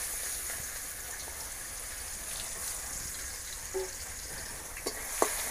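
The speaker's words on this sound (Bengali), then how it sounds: "পেঁয়াজ একটু লাল লাল করে ভাজা নেব।" Onions fry in hot leftover fish-frying oil with whole cumin and bay leaves in a kadai, giving a soft, continuous sizzling hiss with a few faint clicks near the end.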